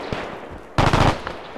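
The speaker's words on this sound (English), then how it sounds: "Oh, shots ahead." Gunfire erupts ahead in a WWII battle video game, with a short, loud burst of rapid automatic shots rattling out after a quieter moment, then a few fainter scattered reports.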